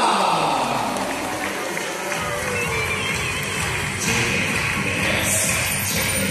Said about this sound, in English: everybody, clap your hands for the last time for the dolphins